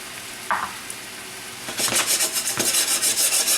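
Curry powder being stirred into a seafood mixture in a pan: close, rhythmic scraping and rubbing strokes that speed up into a steady series of brisk swishes after a quieter start.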